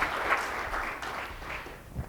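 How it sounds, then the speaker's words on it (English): A small audience at a breakfast presentation claps briefly, a soft, uneven patter from a modest group, fading toward the end. "Maybe a round of applause, including the breakfast."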